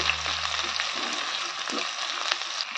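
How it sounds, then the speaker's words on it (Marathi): Chopped onion fries in hot oil with cumin and mustard seeds, a steady close sizzle with light crackles and spatter that runs through the whole stretch, with no talk over it. "गॅस टाकूया आपण चिरलेला कांदा. त्याला छान लाल होऊ देऊया."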